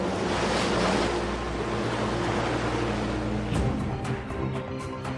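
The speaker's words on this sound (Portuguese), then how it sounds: "O HMS Coventry é engolido pelas ondas." Ocean waves wash over the sinking warship HMS Coventry in the Falklands, a loud continuous surf roar with low rumbling and a few splashes near the end.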